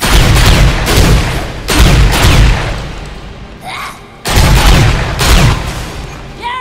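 Shotgun blasts from Dead Rising 4 gameplay boom loudly in heavy bursts, two long volleys separated by a short lull with faint game effects in between.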